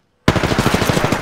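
Automatic gunfire in the video game Apex Legends bursts in suddenly after a brief silence, a loud, close, rapid string of shots at an even rhythm.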